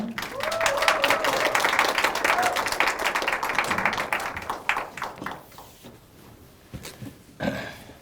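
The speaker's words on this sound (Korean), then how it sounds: "나오실 때 따뜻한 박수 부탁드리겠습니다" Teachers at an education conference applaud warmly as a lecturer comes up to speak. The full clapping fills the first few seconds, then thins to scattered claps and quiet, with a few faint sounds near the end.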